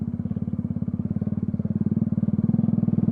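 Steady, rapid engine pulse of a Bajaj Dominar motorcycle ridden off-road near Lobo, Batangas, a close, continuous throb that grows slightly louder toward the end, with no talk.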